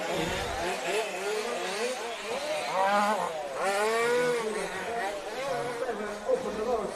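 Large-scale off-road RC short course cars race at a European Championships main final, their whining, revving motors rising and falling continuously under a commentator's voice.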